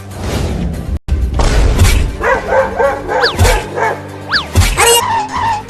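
A dog barks and yips repeatedly in quick bursts amid a noisy, cluttered outdoor scene, close and loud with short gaps between calls.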